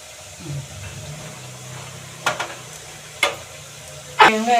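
Chili powder is stirred into a dried prawn and gongura curry in a pan, with a soft sizzle and a few distinct scraping strokes, the last one louder.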